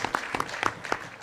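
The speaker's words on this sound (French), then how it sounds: "Je vous prie aussi de les applaudir très fort." Scattered, sparse claps from a small section of a conference audience sound in quick succession for just over a second, fairly close and moderate in level.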